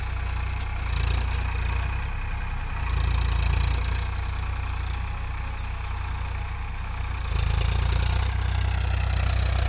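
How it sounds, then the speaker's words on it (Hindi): A tractor ploughing a field rumbles steadily nearby, a deep continuous engine drone that swells louder twice as it passes, with no talking over it. "अभी यहाँ पे ट्रैक्टर पास आ रहा है"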